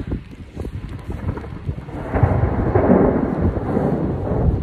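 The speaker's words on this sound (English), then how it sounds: "Started to rain a little bit, so the raincoat's coming back out." Rumbling stormy weather on a mountaintop with wind buffeting the microphone, rising into a heavier roar midway, like rain and distant thunder outdoors.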